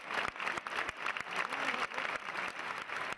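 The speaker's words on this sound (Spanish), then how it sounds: "Finalmente saludó otra gran ovación desde el centro del platillo" Bullring crowd giving a bullfighter an ovation, sustained applause with dense clapping from a large audience, fairly distant and steady throughout.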